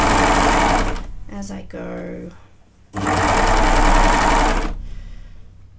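A sewing machine stitching the hem of a women's t-shirt runs loud and close in two steady whirring bursts, with a pause between them in which someone speaks.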